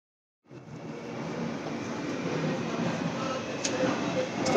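Metro train heading toward Thessaloniki, a steady rumbling cabin drone that starts after a brief silence and holds close and even throughout.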